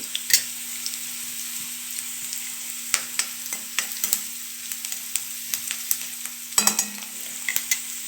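Curry leaves crackle and sizzle as they hit hot oil in a home kitchen while a peanut bhaji is cooked, with a steady frying hiss broken by sharp pops and spatter bursts at close range.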